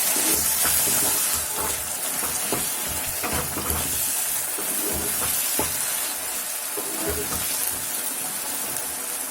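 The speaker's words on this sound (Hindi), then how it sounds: "अभी मैं इसमें थोड़ा सा पानी और ऐड करूंगी।" A pan of dum aloo curry with softened potatoes and mixed masala takes a splash of water. It gives a steady, close hiss and sizzle with faint stirring clinks throughout, and no talking.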